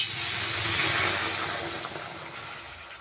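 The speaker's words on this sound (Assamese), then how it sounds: "এতিয়া আমি প্ৰথমে অকণমান পানী দি ল'ম" Water goes into a large hot kadai while cooking, a loud steady sizzle and hiss that fades slightly toward the end.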